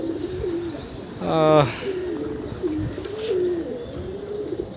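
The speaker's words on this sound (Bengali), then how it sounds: "এখানে কিছু কবুতর ডিস্টার্ব করে এই খাবারটা সবসময় এলোমেলো করে দেয়।" Pigeons coo in bursts of deep, throaty calls while being fed outdoors as a storm sets in, one loud rolling coo standing out near the middle over steady wind-like background noise.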